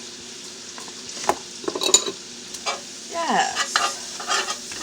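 Homemade tomato soup being stirred in a pot with cilantro added. A spoon scrapes and clinks against the pot in irregular strokes over a faint bubbling sizzle, close up.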